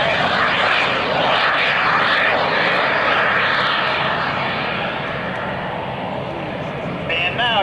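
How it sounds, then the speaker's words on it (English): Micro jet with a 75-pound Dash 1 Microturbo TRS-18 turbojet roars overhead at an airshow, a sustained loud whine and rush of jet noise, while an announcer talks over it. "And now you hear that little micro-turbo engine, that engine that weighs just 75 pounds, the Dash 1, the micro-turbo TRS-18."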